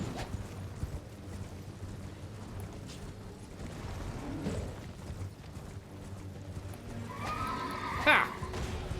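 A horse in the video game Elden Ring gives a loud whinny near the end of the clip. Before it there is steady game ambience with low rumbles and faint clip-clop movement.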